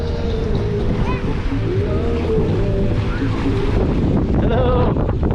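Strong wind at a beach roars and buffets the microphone continuously, with surf-like rushing underneath and faint voices in the background.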